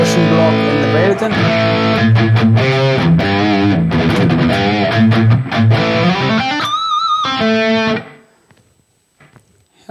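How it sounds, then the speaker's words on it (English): Distorted electric guitar played through the distortion block of a Valeton GP-200 multi-effects unit, loud chugging chords and riffs, then held ringing notes that fade to near silence near the end. "And the distortion block in the Valeton."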